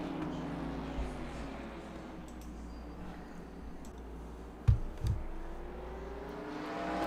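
Dirt track race cars at Lernerville Speedway in a Top Flight Computers National Series race, a distant droning engine roar from the pack, with a couple of sharp bangs near the middle and a commentator talking over it.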